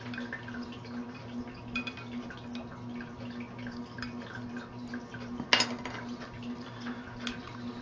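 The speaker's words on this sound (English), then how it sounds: "We'll stir it first." Stirring a colloidal silver solution in a container, soft scattered clinks and light liquid swishes over a steady electrical hum, with one sharper glassy knock partway through; close and quiet.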